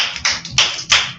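Children clap their hands in a few quick, crisp claps close by, a short rhythmic burst in a classroom.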